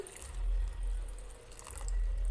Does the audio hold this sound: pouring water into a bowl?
yes